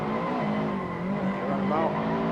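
A drifting car's tires squeal in long, wavering tones over a steady engine roar, sustained and fairly close, with voices talking throughout.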